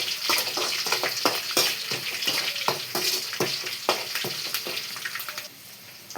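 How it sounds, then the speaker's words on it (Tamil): Peanuts frying in oil in a pan for onion rice, a steady close crackling sizzle with dense bursts of popping throughout. "ஆயிலில் நல்லா ஃப்ரை ஆகட்டும் வேர்க்கடலை"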